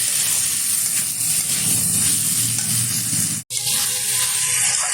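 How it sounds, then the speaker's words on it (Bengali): Steady loud sizzling of potatoes frying in oil with spices, salt and Kashmiri chilli powder in a pan, with faint stirring scrapes and a brief cut near the end. "ভালোভাবে কষিয়ে নেব সবগুলো উপকরণ একসাথে"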